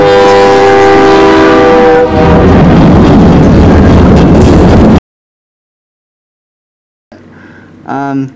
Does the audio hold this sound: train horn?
yes